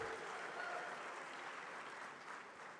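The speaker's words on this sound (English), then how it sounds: "Please give him a warm round of applause." A conference audience at a large annual meeting gives a warm round of applause, a thick, roaring wall of clapping that stays loud and steady from start to finish.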